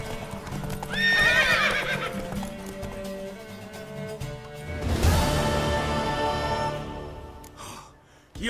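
Horse hooves clip-clopping in the video game Witcher 3, with rhythmic hoofbeats, snorts and a whinny up close, and characters' voices mixed in.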